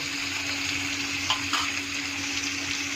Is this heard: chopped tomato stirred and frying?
yes